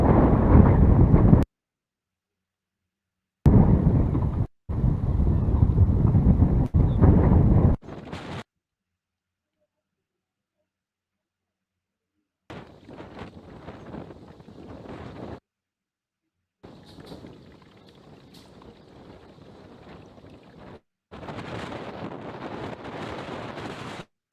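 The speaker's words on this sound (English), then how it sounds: "I know you guys can hear that wind." Strong gusting wind on a lake during a bass fishing tournament rushes against the microphone in separate bursts, loud at first and then softer, broken by several silent gaps.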